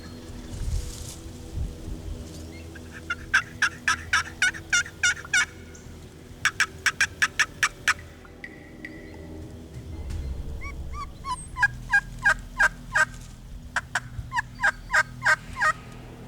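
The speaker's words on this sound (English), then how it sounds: "sometimes midday, you'll get a turkey that'll gobble intermittently" A wild turkey gobbles again and again at a distance outdoors, loud rattling bursts in three clusters that are separated by quiet pauses.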